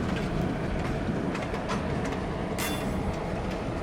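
A GP38 diesel locomotive, one built for the Southern as a GP38 AC, rolls along Delta Southern Railroad track in Tallulah, Louisiana, with a steady, loud rumble and clatter of rail cars and a brief squeal of wheels partway through.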